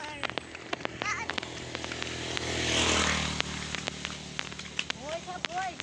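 A motorcycle passes along a road, its engine rising to a broad, loud swell mid-clip and then fading, while a child and an adult talk throughout.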